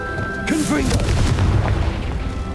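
The Confringo blasting spell goes off in Hogwarts Legacy with a loud booming explosion and a crackling burst, followed by a lingering rumble, with a brief voice calling out at the start.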